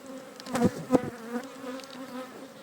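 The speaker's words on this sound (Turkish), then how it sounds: "bak arı dışarı çıkıyor" Honey bees buzzing steadily at close range at an opened hive during a winter check in Kozan, Adana, a dense droning hum with a couple of brief louder swells as individual bees pass near.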